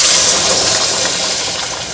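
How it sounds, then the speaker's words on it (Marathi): Hot water is poured into a pot of rice while cooking masale bhat, a Maharashtrian spiced rice dish, a loud steady gushing stream that runs on without a break. "इथे मी पाणी घालत आहे."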